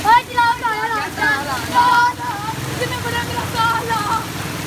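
Heavy rain during a dangerous storm pours as a steady broadband hiss throughout, with someone talking over it nearly the whole time.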